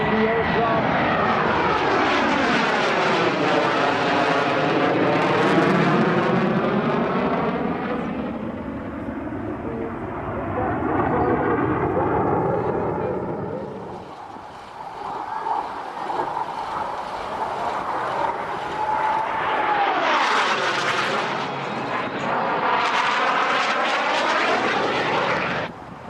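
Fixed-wing propeller aircraft rolling down a runway, its engine droning loudly with shifting, sweeping pitch throughout, dipping briefly midway before surging again.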